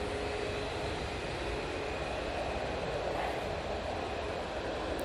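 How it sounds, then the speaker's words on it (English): Gulf Air Boeing 787-9 Dreamliner arriving from Bahrain and landing at Manchester Airport, a steady broad jet roar that stays even and distant throughout. "As we had the Gulf Air 787-9 Dreamliner coming in from Bahrain."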